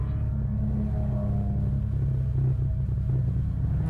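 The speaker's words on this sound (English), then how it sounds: "I thought it was idling, but then I also thought I just heard ignition trying to turn the car over." A race car engine idles at Virginia International Raceway during a WRL endurance race, a steady, heavy low rumble that holds throughout without revving, close and loud.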